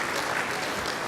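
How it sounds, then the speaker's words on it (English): A conference audience in Baton Rouge breaks into dense, steady applause, a broad wash of many hands clapping at once with no pauses. "Please give them a round of applause,"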